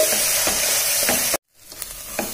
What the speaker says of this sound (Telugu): ఈ పప్పు అంతా వేసాను కదా, ఇది కూడా 1 నిమిషం పాటు ఈ ఆయిల్లోనే ఫ్రై కావాలి.